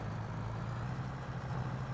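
A tractor engine in Farming Simulator 22 runs steadily under load while pulling a large log, a continuous low droning rumble with an even, unbroken level throughout.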